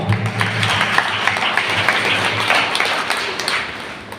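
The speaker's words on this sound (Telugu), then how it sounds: "చప్పట్లు కొడదా?" A church congregation applauding during Sunday worship at Kallepally Church, a dense, continuous burst of many hands clapping together, fairly loud and sustained for about four seconds before tapering slightly.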